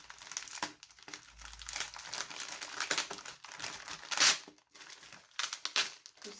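A taped package being opened by hand, with sustained close crinkling and rustling of wrapping and occasional tearing of tape, loud and irregular, with no talking.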